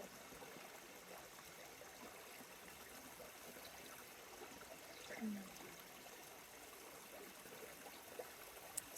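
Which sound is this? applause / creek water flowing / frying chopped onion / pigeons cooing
creek water flowing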